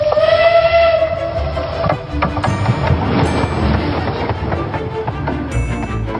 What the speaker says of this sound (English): This is the Lehigh Gorge Scenic Railway, about an hour north of Philadelphia.